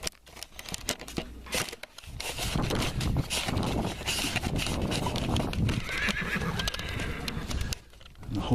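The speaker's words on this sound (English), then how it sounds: "The horses, we got the Cracker horses." Florida Cracker horses at a horse and cattle sale: loud close whinnies and neighing with clip-clop of hooves and rustling, scraping handling noises, continuous and busy throughout.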